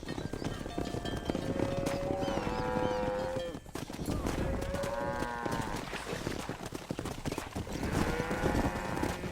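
Cattle herd lowing in Red Dead Redemption on a ranch, with repeated long moos rising over a steady bed of hooves and herd movement, loud and close with a few overlapping calls across the stretch.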